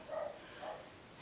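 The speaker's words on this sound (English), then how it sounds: "I'm sorry if you hear my dogs barking." Two short barks from dogs playing outside a window, some distance away, muffled and fairly faint.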